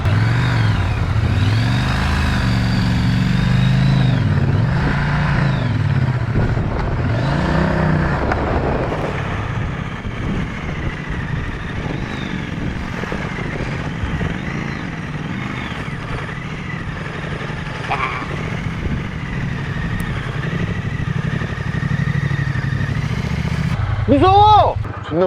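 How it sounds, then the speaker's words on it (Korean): Exhaust note of a manual-transmission motorcycle while riding, a steady low engine drone that rises and falls with throttle throughout, with people talking and laughing over it almost the whole time. "이 배기음이 진짜 매력있어."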